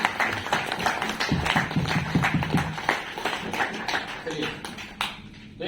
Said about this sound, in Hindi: एक बार जोरदार तालियों से अपना अच्छा वेलकम